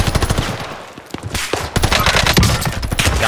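Rapid machine-gun fire in Call of Duty on Rebirth Island, loud sustained bursts of automatic shots with a brief lull before the firing resumes and continues heavily.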